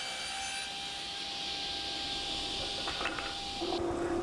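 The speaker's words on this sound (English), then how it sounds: "just sawing the Fiji mahogany now" A saw cuts steadily through Fiji mahogany with a continuous rasping noise, close and fairly loud, with a brief higher whine near the end and no talking.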